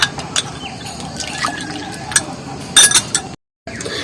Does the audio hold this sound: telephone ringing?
no